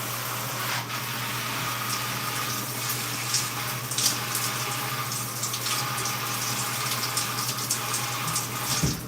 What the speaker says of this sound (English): So I'm gonna put some water.